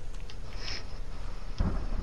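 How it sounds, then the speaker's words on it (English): A thunderstorm in the survival video game The Forest: a steady broadband rumble of weather, with a louder low thunder swell near the end. There is no talking over it. "Hey, there's some thunderstorm."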